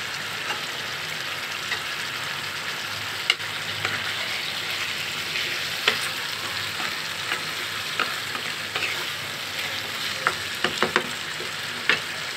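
A banana flower curry with potato and red lentil fritters sizzles in a pan while being stirred, a steady crackling hiss dotted with frequent sharp spatula taps and scrapes.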